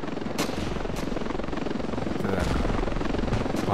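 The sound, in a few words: helicopter flying in Ravenfield video game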